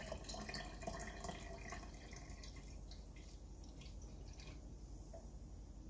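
Fizzy Voltage soda poured from a can into a cup, a steady close hiss and trickle of carbonated liquid running for several seconds with faint bubbling throughout.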